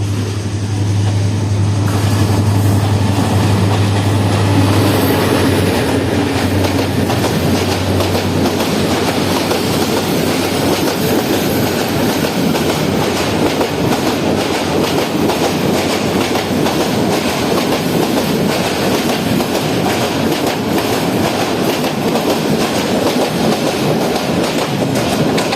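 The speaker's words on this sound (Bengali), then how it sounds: "এই যে একটা ট্রেন আসতেছে" A train rolls past close by at a station, loud and sustained with rumbling wheels and rhythmic clatter over rails, starting with a low engine drone that gives way to continuous track noise.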